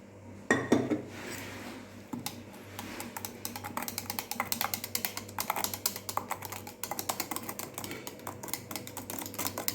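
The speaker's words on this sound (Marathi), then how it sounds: "थोडंसं पाणी घालू आणि व्यवस्थित मिक्स करायचं आहे" A large spoon stirs dhokla batter with water and soda in a container, giving quick, uneven scraping and clinking taps that keep going for several seconds, fairly close and moderately quiet.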